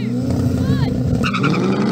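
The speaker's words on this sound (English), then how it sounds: "Some serious wheel spin here." A BMW M3 launches hard off a drag-race start, its engine roaring loud and close with revving harmonics while the tyres spin and squeal, and a voice talks over the noise.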